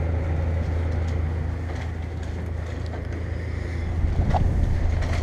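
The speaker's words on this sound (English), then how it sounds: "So the fan's spinning in there." A filthy 2015 Prem Aire PTAC air conditioner of about 9,000 BTU runs with its fan spinning, a steady loud whooshing rumble with a low hum, constant and close, no voices.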